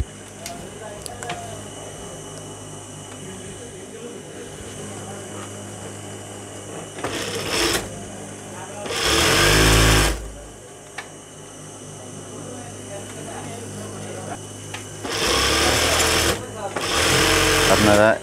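An electric sewing machine stitches petticoat panels together in several loud, buzzing bursts of a few seconds each, with someone talking quietly between and around the runs.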